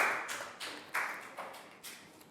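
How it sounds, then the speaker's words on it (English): Several sharp claps ring out in a classroom for a student, spaced at irregular intervals, fairly faint and with no talking. "Big round of applause for Net"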